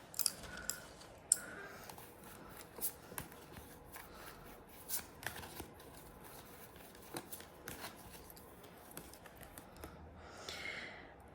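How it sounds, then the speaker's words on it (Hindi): Tarot cards being drawn from a deck one after another during a reading, giving soft, sporadic card slides and flicks that stay quiet and close, with no talking. "पहले मैं सारे कार्ड्स निकालूंगी"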